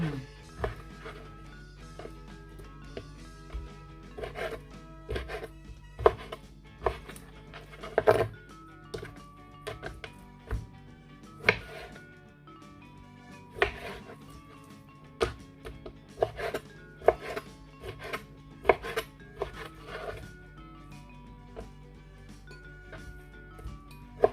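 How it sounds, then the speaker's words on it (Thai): Repeated sharp knife chops through chicken on a cutting board, irregular and close, over a steady low hum and faint background music. "เรามาเตรียม หั่นไก่กันเลยนะคะ"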